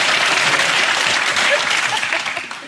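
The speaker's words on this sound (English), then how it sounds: "Applause." A TV comedy panel show studio audience bursts into loud, dense clapping that holds steady and then tapers off over the last half second.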